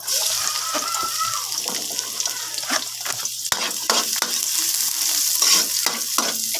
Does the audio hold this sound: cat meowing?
no